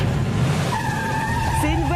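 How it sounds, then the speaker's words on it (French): Car engine revving with tires skidding and squealing, a loud continuous screech whose pitch wavers and rises near the end, heard up close. "C'est une voiture"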